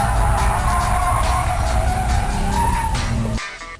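A car drifting with its rear wheels locked by the e-brake, loud sustained tire squeal and skidding over engine noise, close and continuous for several seconds before cutting off near the end.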